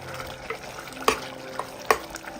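A thickening mixture stirred in a pan over high flame, with soft scraping, a faint sizzle underneath and a couple of sharper utensil knocks against the pan.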